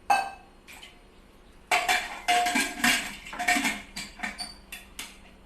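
Metal pressure cooker lid clattering and scraping onto the pot in a home kitchen during pork curry cooking, a run of close clinks and knocks in quick bursts with no talk.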